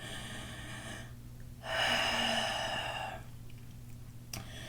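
Slow, deep yoga breathing: a long, audible exhale swells in the middle, set between quieter breaths, close and calm with no talking.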